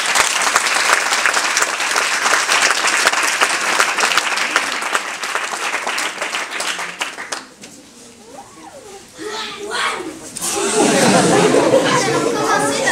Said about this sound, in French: Je vous prie de faire un triomphe d'applaudissements à Lucille et Zoé.